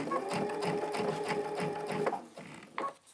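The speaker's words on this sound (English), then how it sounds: "And I'm going to reduce my stitches down and back stitch." Sewing machine with a walking foot running a short back stitch while straight-line quilting, a quick steady mechanical chatter that stops and restarts briefly, close and fairly quiet.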